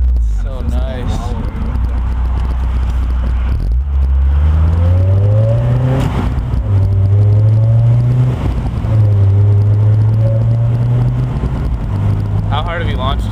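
A Honda S2000 fitted with an HKS exhaust and test pipe revs repeatedly, its loud engine note climbing and falling in rising sweeps with crackle, close by and steady throughout, while people talk over it.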